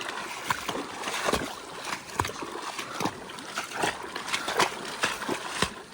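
Continuous rushing and splashing of water with repeated sloshing steps, as someone wades through a shallow stream near Sonora Pass on the Pacific Crest Trail, fairly close and steady throughout.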